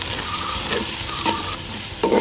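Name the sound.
onions frying in hot coconut oil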